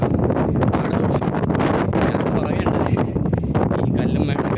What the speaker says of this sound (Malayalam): കാറ്റെന്ന് പറഞ്ഞാൽ രക്ഷയില്ലാത്ത കാറ്റാണ്